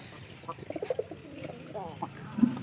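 Newly acquired pigeons cooing in a pair, a few soft, low throaty coos in quick succession, close by and fairly quiet, with a faint background murmur.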